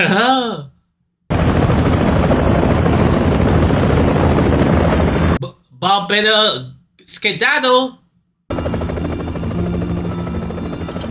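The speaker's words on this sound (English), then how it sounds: "So does that look like a military helicopter?" A military helicopter in a movie scene thunders loud and close with steady rotor chop, broken by abrupt cuts and bursts of gunfire, with someone speaking between the noise.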